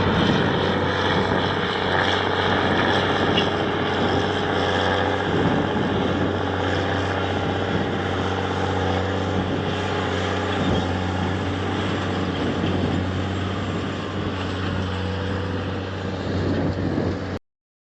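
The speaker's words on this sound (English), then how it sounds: "I hear that big tractor coming." A steady, loud tractor engine drone with a deep low hum holds throughout, a heavy motor working a field continuously close by with no talk.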